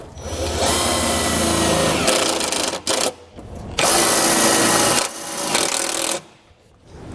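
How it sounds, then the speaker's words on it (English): A power driver sinks self-tapping screws to mount a Roadmaster battery charge line kit, with several loud whirring bursts separated by short pauses. "I'm going to hold it in place and then use the provided self-tapping screws"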